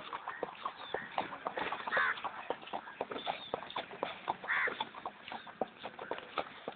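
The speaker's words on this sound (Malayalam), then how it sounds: "ഇതാണ് കുതിര" Horse hooves clip-clop in a steady, uneven walking rhythm of sharp knocks, heard fairly close but quiet, with a couple of brief bird-like calls rising over the footfalls.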